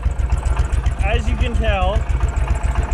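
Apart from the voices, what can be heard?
Case 444 tractor engine running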